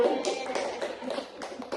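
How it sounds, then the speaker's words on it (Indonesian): A small group in a counseling session claps hands in a few quick, uneven rounds of sharp close claps. "tepuk tangan dulu"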